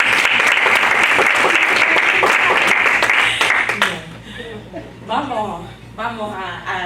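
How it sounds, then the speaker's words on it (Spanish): A church congregation applauds during a sermon, loud dense clapping for about four seconds that stops abruptly, followed by a voice speaking alone. "Denle un aplauso al Señor."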